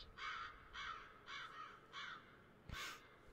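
Crow cawing in the video game Drizzlepath: four evenly spaced harsh caws followed by a louder, sharper call, fairly close and alone over a quiet ambient background.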